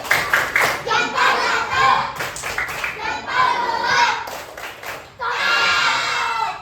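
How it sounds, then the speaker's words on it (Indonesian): A class of elementary pupils repeats a thumb-clap cheer, several rhythmic bursts of clapping under loud children's chanting, with a short dip before a final sustained burst. "Sekali lagi, tepuk jempol."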